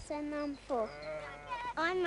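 Sheep bleating in a 1998 Teletubbies PC game scene where boys run after the flock, with several loud, drawn-out wavering bleats overlapping one another in quick succession.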